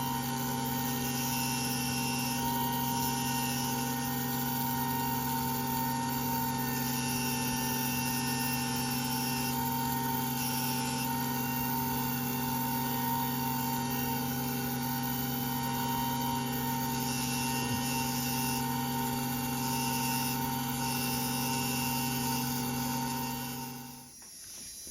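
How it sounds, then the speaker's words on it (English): Watchmaking machine snailing a ratchet wheel in an independent watchmaker's atelier: a steady, close mechanical whine with sustained tonal hum, constant for the whole stretch before cutting off abruptly at the end. "this is the snailing process for the ratchet wheel"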